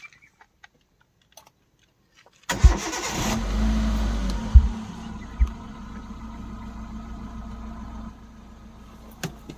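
A 2009 Hyundai Santro Xing car engine cranks and catches after a few quiet clicks, then settles into a smooth, steady idle for several seconds before the sound drops away.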